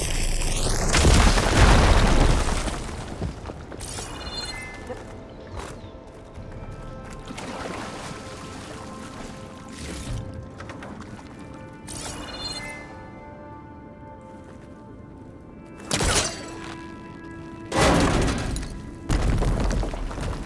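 A chain-reaction explosion in Horizon Forbidden West, a heavy booming blast at the start, then a lingering rumble with further sharp bursts and pops spaced through the latter part.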